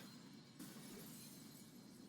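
Faint, quiet burst of shattering like breaking glass, a broad crackling wash that begins abruptly and lingers as a soft hiss, as a body shatters in an Attack on Titan anime episode.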